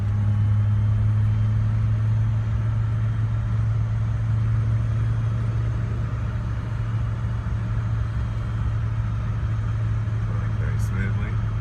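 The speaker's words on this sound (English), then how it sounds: "So we're going to skip over to 5th gear." BMW 325is engine cruising in fifth gear, a steady low hum and rumble from inside the car with constant road noise, unchanging throughout.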